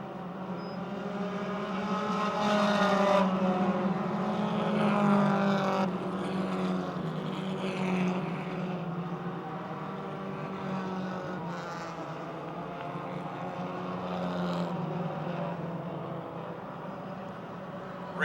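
Super Compact race cars at the Motordrome Speedway drone steadily past at race pace, several engines layered into a sustained mid-distance roar that swells and eases over the lap, with no voices over it.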